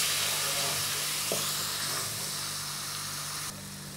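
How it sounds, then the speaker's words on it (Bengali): A spice paste of cumin, turmeric and Kashmiri chili powder fries in a pan with a steady close sizzle and hiss, a brief scrape of stirring partway, and the sizzle drops slightly near the end. "এবার মশলাটা কষিয়ে নেব।"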